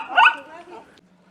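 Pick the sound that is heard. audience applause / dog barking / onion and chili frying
dog barking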